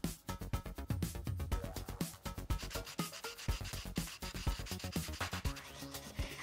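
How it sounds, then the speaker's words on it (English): Sanding wooden parts for a homemade tortilla press gives a steady series of quick, rhythmic rasping strokes, close and fairly loud, with no voices. "I sanded everything to get it ready to be glued together with wood glue"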